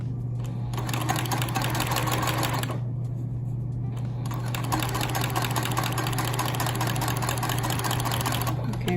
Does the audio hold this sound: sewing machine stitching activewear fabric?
yes